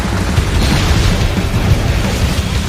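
An explosion sound effect for a clash of fire and water rumbles loud and continuous, a dense, deep roar that holds steady for a few seconds.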